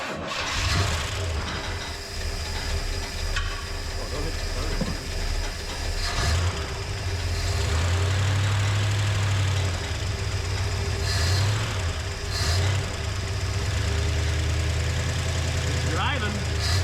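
A 455 Oldsmobile Vista Cruiser muscle-car station wagon's V8 rumbles steadily at close range with its tires off the ground, a deep continuous drone swelling and revving at times while voices talk over it.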